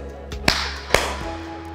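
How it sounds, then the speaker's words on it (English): Two sharp claps or knocks ring out in an industrial-style design office with cement-rendered flooring, each followed by a short reverberant echo tail, with a low steady hum underneath and no talking. "you need to be able to tackle soundproofing, as the sound and echoes are going to sound like this."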